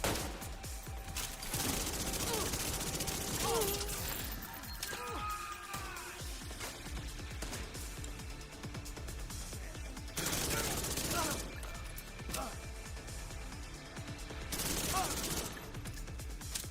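Rapid gunfire bursts and a fusillade erupt in The Division 2 during the Battle for Brooklyn, loud and repeated in clustered volleys with mechanical clatter between.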